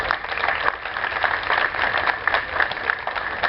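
Audience applause at a conference on old Xalapa, a continuous mid-distance patter of many hands clapping that holds steady for the whole stretch without talk.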